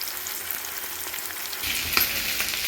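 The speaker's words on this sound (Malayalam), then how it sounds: "വെളിച്ചെണ്ണയിൽ വറക്കാൻ ഇട്ടിരിക്കുകയാണ്" Food sizzling in hot coconut oil, a continuous crackling hiss that swells louder partway through, close by.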